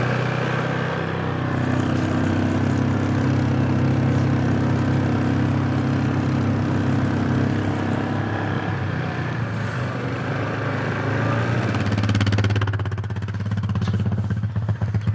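A four-wheeler ATV engine runs steadily at close range for the whole stretch, a loud continuous motor drone with a rough clattering edge that rises briefly near the end.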